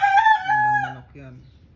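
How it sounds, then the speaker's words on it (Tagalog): A 6.5-month-old rooster crows once up close, a loud drawn-out call with a rising start and falling tail, followed by a softer trailing note. "Gandang manok yan."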